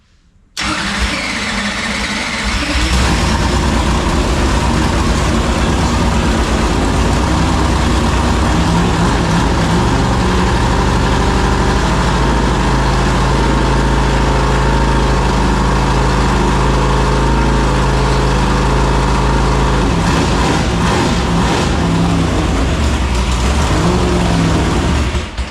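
A small Pop Power engine mounted in an Elite chassis sputters to life, then settles into a loud, steady mechanical roar with a rough, droning idle and slight pitch shifts near the end.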